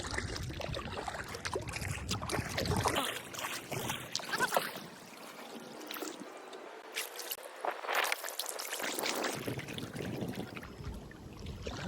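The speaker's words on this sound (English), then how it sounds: "Y'all ever paddled through a forest before?" A boat is paddled through a flooded forest, with repeated watery splashes, drips and trickles close by, and rustling and knocking as it passes between trees.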